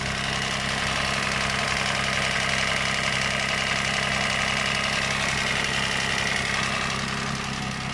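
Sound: Toyota FJ Cruiser 2007 engine idling with an unusual noise

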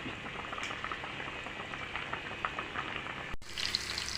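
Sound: fish curry boiling in pot

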